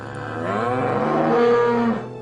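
A cow lows in one long, drawn-out moo that swells and holds for nearly two seconds before fading, loud and close with no other sounds around it.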